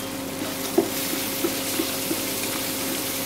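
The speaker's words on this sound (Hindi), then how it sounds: "इसे अच्छे से फ्राई होने देंगे" Green chilies frying in a pan for bread upma, a steady sizzle with a few soft pops and clicks over a constant hum, no talk.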